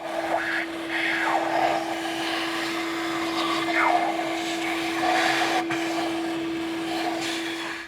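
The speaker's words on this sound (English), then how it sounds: "continue on with a vacuum cleaner if you have one available" A vacuum cleaner runs continuously nearby with a steady whine, its pitch shifting slightly as the nozzle moves and sucks debris from the intake ports of a 2.5L four-cylinder Nissan Altima engine.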